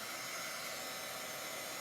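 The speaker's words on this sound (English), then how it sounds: "Don't you love how my little hairdryer starts making different noises as we go?" A small hair dryer blows steadily, a constant close whooshing whir with no pauses or changes.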